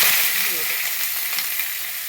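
Eggplant and potato pieces fry in a pan with a steady, close, bright sizzle, continuous and fairly loud with faint stirring, and no talking.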